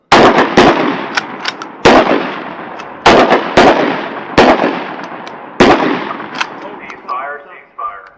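Shots from an M26 MASS (Modular Accessory Shotgun System) shotgun, six loud, sharp blasts spaced unevenly over several seconds, each followed by a decaying echo, with a faint voice near the end.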